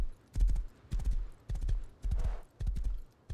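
Horse hooves gallop in the video game Rust, with loud, close thudding beats arriving in quick clusters at a steady, driving rhythm.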